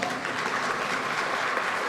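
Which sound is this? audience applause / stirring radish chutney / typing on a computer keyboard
audience applause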